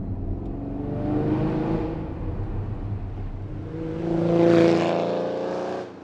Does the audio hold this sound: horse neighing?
no